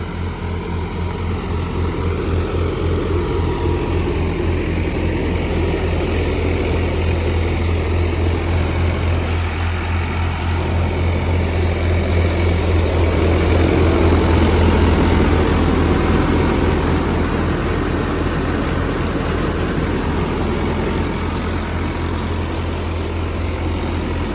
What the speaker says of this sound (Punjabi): 1400 ਚੱਕਰਾਂ ਪਰ ਚੱਲਦਾ ਟਰੈਕਟਰ ਤੇਰਾ